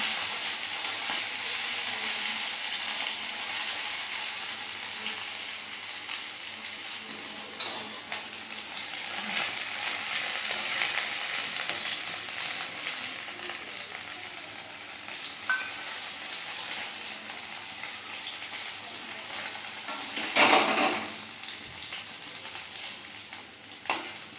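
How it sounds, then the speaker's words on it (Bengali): Okra (bhindi) fries in a pan, a steady close sizzle with occasional stirring scrapes and a few clinks of utensils against the pan. "এই যে ভেন্ডি ভাজা বসাইছিলাম"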